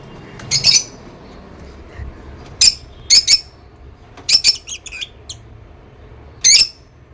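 Two pet birds squawk loudly at home in short, harsh bursts, some single and some in quick pairs, spread over several seconds, close by and sharply louder than the quiet room around them.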